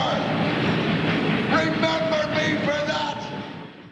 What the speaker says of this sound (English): he's just leaving on a train